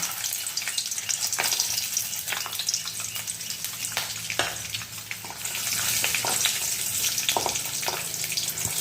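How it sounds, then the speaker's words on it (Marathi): Peanuts crackle and sizzle in hot oil in a home kitchen pan, a steady close frying hiss with scattered pops and stirring scrapes, no talking. "आता यामध्ये मी टाकत आहे शेंगदाणे"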